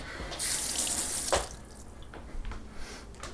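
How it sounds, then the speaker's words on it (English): Tap water runs into a sink as cauliflower is rinsed beneath it, a steady close splashing stream with a brief louder gush partway through and small drips and clatter afterward, no voices. "We're going to get some cauliflower. I'll rinse it off."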